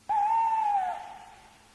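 A single clear owl hoot rings out, a sustained smooth tone that holds steady and then fades away, heard alone and fairly close.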